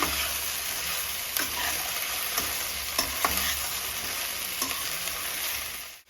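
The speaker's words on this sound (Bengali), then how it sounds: "এটা আমি এবার নেড়ে নেব দেখো সবগুলোকে মিক্স করে দিচ্ছি" Chopped vegetables being stirred and mixed in a frying pan, a steady sizzle under repeated scraping strokes of a spatula, close and fairly even until it cuts off at the end.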